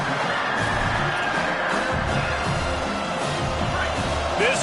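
A dense stadium crowd at an American college football game between TTU and USC roars continuously, a loud, sustained wash of voices and cheers heard close and steady throughout.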